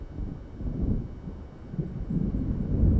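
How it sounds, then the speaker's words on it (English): Low, rolling thunder rumbles in the Alan Wake video game as a storm approaches, a continuous deep swelling roar with no speech, building slightly toward the end. "It seems there's a storm coming"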